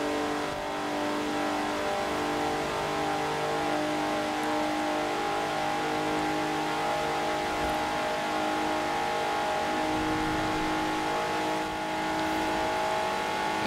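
A stock 1992 Alfa Romeo 155 Q4 drives in Forza Horizon 4, its engine a loud, steady, buzzing drone that holds at high revs with slight shifts in pitch throughout.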